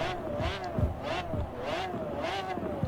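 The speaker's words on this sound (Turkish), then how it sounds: "Ses çılgın. AMG Hammer Coupe" Mercedes AMG Hammer Coupe engine in the racing game Forza Horizon 4, a rising and falling engine drone with repeated rev swells, moderately loud and without talk.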